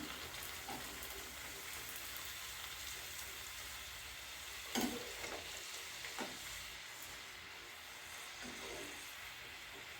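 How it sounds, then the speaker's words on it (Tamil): Chicken samosas deep fry in hot oil in a pan, giving a soft, steady sizzle and hiss with a few brief clinks and bubbling bursts. No voices are heard. "இந்த மாதிரி எல்லா சமோசாவும் நம்ம பொரித்து எடுத்துக்கிறோம்."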